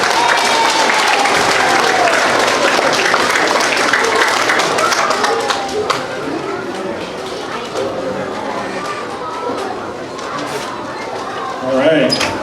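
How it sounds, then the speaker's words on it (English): Sustained audience applause at a school career day, many hands clapping steadily at close range for about twelve seconds, with scattered voices and crowd murmur mixed in. "All right, to give him a round of applause."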